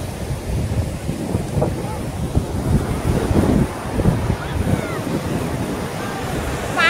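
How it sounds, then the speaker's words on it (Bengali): Strong wind roars steadily against the microphone, with the broad wash of sea surf rolling beneath it on the beach at Puri, continuous and loud throughout. "পুরো ভেঙে যাচ্ছে আর প্রচুর ঢেউ, খুব হাওয়া হচ্ছে"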